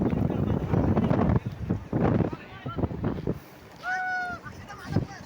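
Wind gusts buffet the microphone outdoors on a Sahyadri mountaintop at Machal, Ratnagiri, with voices speaking over much of it and a couple of brief whistling tones partway through.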